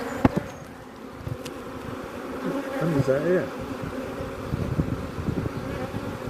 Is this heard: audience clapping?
no